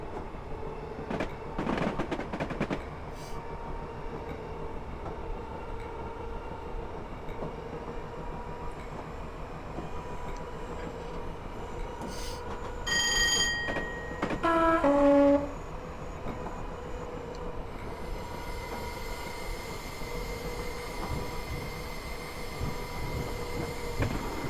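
A Southern Class 421 electric train runs at speed in Train Simulator, with a loud, continuous rumble of wheels on the rails. A horn sounds midway, then the track noise brightens and carries on to the end.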